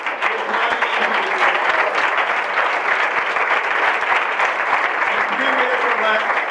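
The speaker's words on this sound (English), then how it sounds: "So give these people a round of applause" Sustained, loud audience applause for presenters at a dreamOlé '18 demoJam, a dense steady wash of clapping from a crowd, with some vocal noise mixed in throughout.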